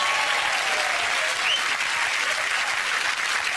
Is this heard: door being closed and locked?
no